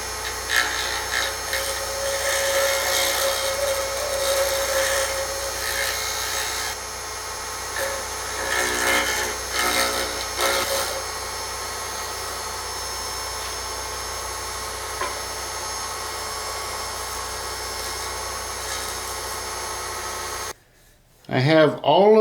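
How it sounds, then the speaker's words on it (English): A carbide lathe tool is honed by hand during acrylic turning, giving a steady scraping, rasping rub that runs continuously for about twenty seconds at close range, then breaks off abruptly. "go hone my carbide tool real quick."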